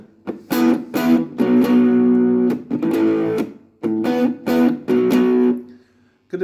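Electric guitar with heavy gain distortion played through a Nux Mighty 8 BT amplifier: loud, buzzy chords struck in short rhythmic bursts with brief silent gaps between phrases.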